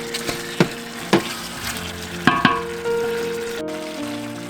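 Pre-blanched oxtails stirred into a pot for Vietnamese beef stew (bo kho), with several sharp knocks and scrapes of a spoon against the pot over a soft sizzle, close and moderately loud, with no talk.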